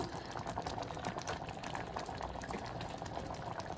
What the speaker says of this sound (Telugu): ఇలా ఉడుకుతుంది కదా మామిడికాయ ముక్క తీసి చూద్దాం ఉడికిందో లేదో